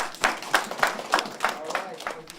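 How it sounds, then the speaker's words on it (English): An audience claps for hockey defenseman Jalen Smereck of the Flint Firebirds in a steady, evenly spaced rhythm of sharp, close claps. "Can we clap for him, please?"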